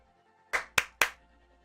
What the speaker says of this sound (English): Another round of applause for that guy.